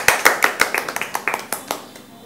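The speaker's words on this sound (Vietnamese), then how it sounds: "Cho một tràng pháo tay nào." Sharp, separate handclaps from a small group at a street gathering on a pedestrian walkway, close and distinct at first, then thinning into scattered claps that fade toward the end.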